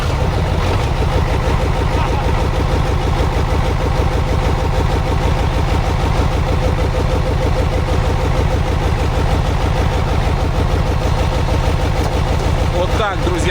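A Soviet KrAZ 255 truck, left sunk in the ground for 20 years, cranks and its engine runs in a loud, steady low rumble throughout, close by, with a brief knock near the end.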